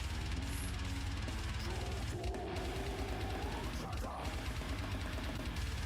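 A dense, pounding metal kick drum hammers rapidly and loudly, almost machine-gun-like, with a distorted, grinding texture throughout.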